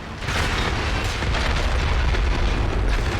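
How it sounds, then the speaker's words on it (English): Explosion beyond a hill in a MechWarrior video game, a broad, sustained rumbling roar with crackling bursts that stays loud and dense throughout. "Just hear the explosion on the other side of the hill."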